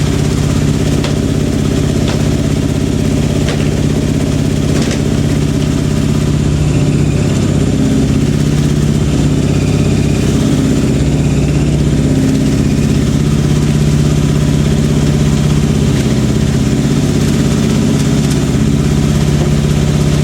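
Zanussi Jetsystem Excel 1250 top-loading washing machine on its spin cycle, a steady loud drone with a low hum and shifting mechanical vibration, constant and close throughout with no talking.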